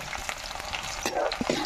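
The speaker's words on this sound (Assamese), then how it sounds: "পিঁয়াজখিনি দি ধুনীয়াকৈ এতিয়া অলপ সময় ভাজি থাকিম" Chopped onions frying in hot oil in a pan for an Assamese duck curry: a steady close-up sizzle and crackle with occasional soft stirring scrapes, alone without talk.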